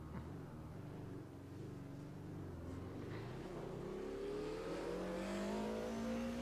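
Racing game car engine revving and shifting during heel-toe downshifts, a steady close engine drone with rising pitch sweeps running throughout, no talk.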